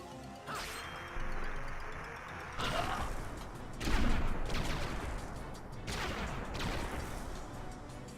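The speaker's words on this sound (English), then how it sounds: "Gotta watch the explosion." A series of heavy crashing explosion blasts in the video game Suikoden IV, four or five booming bursts spaced about a second apart, each with a sharp onset and a rumbling tail, loud and unaccompanied by talk.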